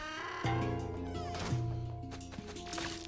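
A cat in Luigi's Mansion 3 meows two or three times, with drawn-out, wavering cries over a steady musical drone.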